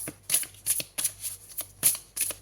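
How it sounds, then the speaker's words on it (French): Oracle cards being shuffled by hand: a quick run of six or seven crisp riffling bursts, close and clear, with no talk. "on me dit de tirer une autre carte avec ce joli oracle"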